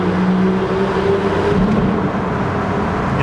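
A straight-piped 2007 BMW 760Li V12 roars loudly and close as it drives through a tunnel, its dense raspy engine note holding strong and echoing throughout, with no talking.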